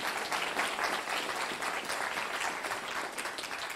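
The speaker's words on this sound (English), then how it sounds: "please just join me in clapping for those folks" An audience at a bridge showcase and awards event applauds, a dense, sustained wash of clapping at steady volume, with no voice over it.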